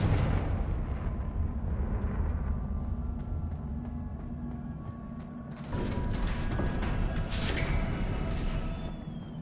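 A Confringo fire spell erupts in Hogwarts Legacy, a loud burst of crackling, rumbling blast that swells again midway and sustains with mechanical, creaking textures underneath.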